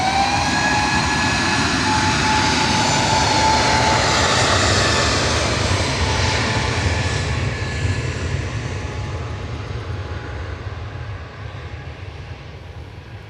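easyJet jet taking off from Manchester Airport, a loud rushing engine roar with a thin whine that holds strong, then slowly fades as the aircraft pulls away, with no voices.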